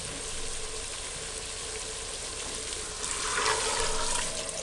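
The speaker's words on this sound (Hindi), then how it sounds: "अब इसमें पानी डालते हैं।" Water pours into a hot pan of frying chickpeas, giving a steady, close hiss of sizzling and splashing that swells louder near the end.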